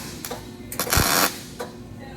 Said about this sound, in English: So we just tacked one side of our weld.